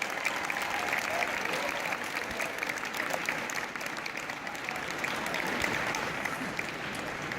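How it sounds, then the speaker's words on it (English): Sustained audience applause for a speaker's wife at a Relay for Life 2017 event, a steady dense wash of clapping from a crowd, moderately loud and even throughout with no voices over it. "Give that lady a round of applause."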